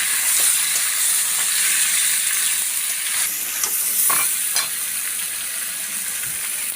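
Meat sizzles loudly as it fries in a hot pan with chopped onions, a dense continuous hiss with occasional crackles and pops from close up, no voices.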